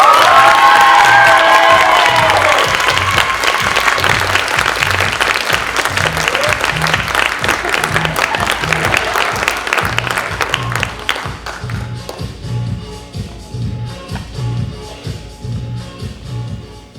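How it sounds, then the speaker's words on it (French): Theatre audience applause rings out loud with cheers and whoops, fading after about eleven seconds as a low rhythmic musical beat continues underneath. "applaudissez-la bien fort"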